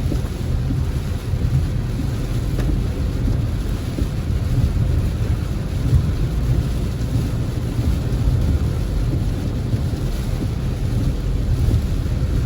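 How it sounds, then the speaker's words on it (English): Heavy rain pours steadily during a thunderstorm brought by a cold front in Montego Bay, Jamaica, a dense continuous roar with low rumbling and wind buffeting the microphone, no voices. "A lot of rains here, man."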